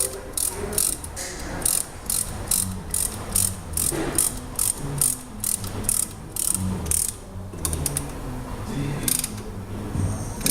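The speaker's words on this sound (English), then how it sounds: "So what I'm doing is I'm pushing the piston right back in." Front brake caliper piston being pushed back into its bore during a pad and rotor job, giving a close, repetitive ratcheting clatter of regular mechanical clicks for about ten seconds, with no talking.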